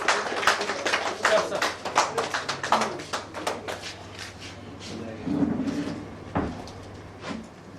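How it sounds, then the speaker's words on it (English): Scattered claps from the audience at a banking quiz semi-final ring out for the runners-up: a quick, uneven burst of sharp hand claps that thins out after a few seconds, with people talking through and after it. "A huge round of applause for our runners-up, please."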